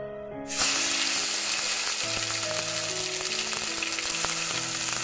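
Chopped tomato dropped into hot oil bursts into a sudden loud sizzle after a brief quiet start, then keeps crackling steadily up close.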